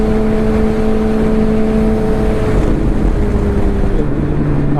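Suzuki GSXR1000 motorcycle engine running loud and close with a steady high-pitched drone that shifts pitch slightly near the end, with no talk over it.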